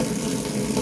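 Steady rush of water from a tap over a Gem single-edge razor blade being rinsed, a continuous close splashing flow with no talk.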